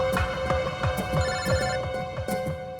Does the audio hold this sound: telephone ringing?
yes